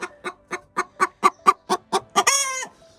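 Brooding hen sitting on eggs, clucking in a steady run of about ten close, evenly spaced clucks that end in a drawn-out, louder squawking call.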